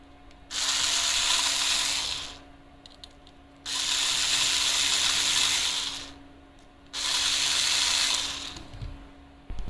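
Screws being driven in during reassembly of a transmission, heard as three long, steady bursts of whirring ratchet-like mechanical buzz, each about two seconds, separated by short pauses with a faint hum in between.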